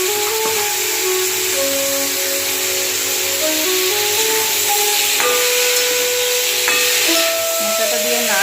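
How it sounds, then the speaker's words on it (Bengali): Boiled banana flower, spiced with coriander powder and turmeric, is stirred in a hot pan for a prawn dish, making a continuous sizzling hiss while faint tonal sounds hover in the background. "মোচাটা দিয়ে নাড়ছি।"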